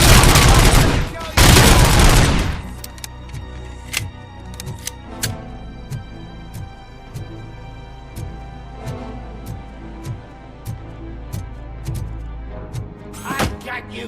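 Gunfire in RoboCop: Rogue City opens with two loud, dense bursts, then settles into a run of sharp, evenly spaced single shots and clicks, closing on one more loud burst.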